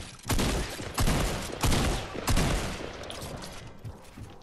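Gunfire in the video game Fortnite: four or five heavy, booming shots spaced about half a second apart, then fainter follow-up blasts fading into a noisy wash, with no talk over them.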